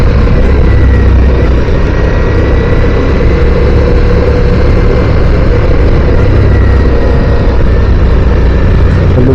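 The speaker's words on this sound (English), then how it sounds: "This engine has a beautiful symphony to it." A Ducati Diavel V4 motorcycle engine drones steady and loud from close up while riding, a constant low rumble with no break and no talk.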